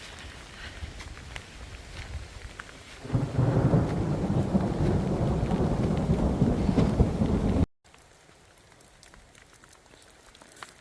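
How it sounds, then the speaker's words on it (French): A thunderstorm on a walking trail near Belorado and Atapuerca brings a deep rumble of thunder that swells in the middle and then fades, over a steady hiss of falling rain, with a short cut near the end. "Il y a l'orage, c'est ça que j'aime moins."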